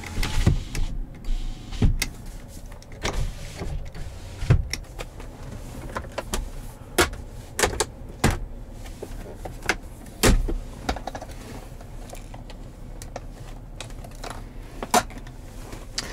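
Power windows on a black 2017 Chevrolet Silverado 1500 LTZ Z71 whir in short bursts inside the cab, mixed with sharp clicks and thumps of switches or door parts, close and fairly loud, with no talk.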